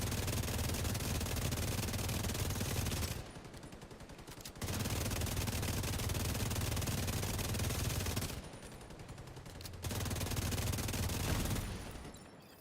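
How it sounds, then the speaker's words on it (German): Continuous machine-gun fire in The Division 2, a dense steady rattle that runs for several seconds, cuts out briefly twice and then resumes, with no talk over it. "das MG schießt noch weiter"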